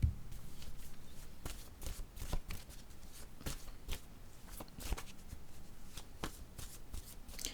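Tarot-style cards being shuffled by hand, a steady run of soft papery riffles and snaps repeating close up, fairly quiet, with no talk over it.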